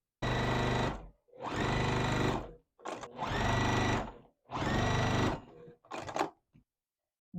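A sewing machine stitches fabric strips for a quilt block in four or five bursts of steady motor whir, close and loud, separated by short pauses.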